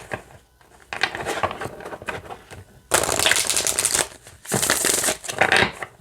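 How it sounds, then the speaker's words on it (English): Oracle cards riffle and snap together in quick, papery bursts, softer rustling first, then two louder, closer shuffles. "let's see how this shuffles."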